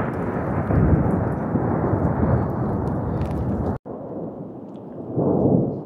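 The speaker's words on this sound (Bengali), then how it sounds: "আসলে ওই খুটখাট শব্দগুলো সদ্য শুরু হওয়া স্নোফল আর সেই সাথে শিলাবৃষ্টির" Hail mixed with freshly started snowfall pattering outdoors in cold weather around Dharamshala and McLeodganj, a dense, continuous rattling wash with a brief break midway, then swelling heavier toward the end, with no talking.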